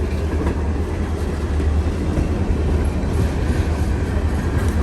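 Loaded rock-train freight cars roll past steadily on the way to a quarry at Plum Run, a close, loud, continuous rumble with faint wheel clatter and no talking.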